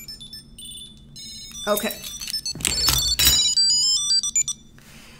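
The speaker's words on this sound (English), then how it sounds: "And so now my keys start ringing." A small Bluetooth key tracker chirps a bright, rising electronic ringtone melody in quick repeating notes, with a brief spoken word nearby.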